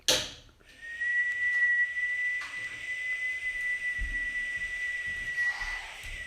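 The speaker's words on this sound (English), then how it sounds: "Whistle it out." A long, steady high whistle from a person exhaling slowly through pursed lips, held evenly for several seconds after a short breath in, close and clear with faint background noise.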